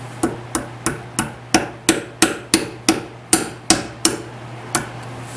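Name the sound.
hammering a razor blade to break a piston ring loose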